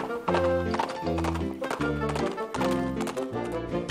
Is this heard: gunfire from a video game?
no